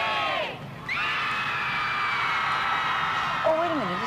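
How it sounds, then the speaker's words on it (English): Many students scream out of open windows during finals week, a sustained, loud chorus of overlapping shrieks and yells that dips briefly, then swells again with a few higher wavering cries. "Everybody takes 10 minutes to open the windows and scream."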